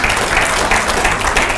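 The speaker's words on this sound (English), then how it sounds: "let's give the Lord a clap offering" A church congregation claps together in a dense, continuous burst of applause, loud and close, with a few voices mixed in.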